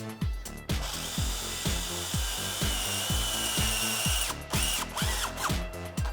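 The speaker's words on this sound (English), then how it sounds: "we're gonna go ahead and drill a pilot hole through both sides." A power drill bores a pilot hole through both sides of a metal bracket and frame, whining in repeated short bursts of trigger pulses with brief pauses between them, loud and close.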